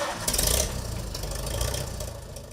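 A Farmall 350 tractor engine runs at a steady, knocking idle, close and moderately loud, with a brief louder burst near the start and no talk.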